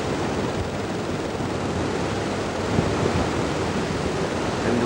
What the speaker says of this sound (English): The whole of the river has to force its way through this deep little gorge.